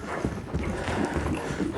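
A ridden horse walking during a training session, with steady, close hoof clip-clops in an even rhythm over continuous rustling background noise.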